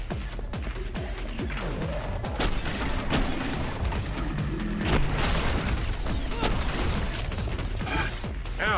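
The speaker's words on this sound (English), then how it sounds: "Their SMGs are so good at hurting me." Enemy SMG fire in the video game Sprawl gives a constant wash of rapid shots, impacts and rumbling mechanical noise, loud and busy from start to finish without letting up.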